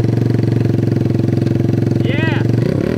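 A Honda CL125 motorcycle engine that sat for 40 years runs close by with a steady, loud, pulsing idle throughout, and a voice breaks in briefly near the end.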